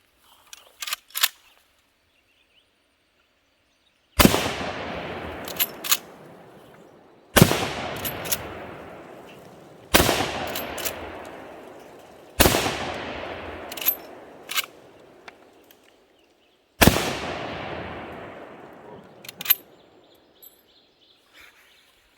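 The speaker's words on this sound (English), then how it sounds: "guess we'll load it back up and take some more shots" Marlin lever-action rifle gunshots: five loud, sharp cracks spaced a few seconds apart, each trailing off in a short echoing decay, preceded by a few faint clicks.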